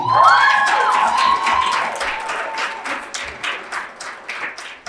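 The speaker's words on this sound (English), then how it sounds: "One more round of applause for Hokari." An audience at a career and entrepreneurship expo applauds and cheers, a loud whoop rising over dense clapping at first, then the clapping thins into scattered, fading claps.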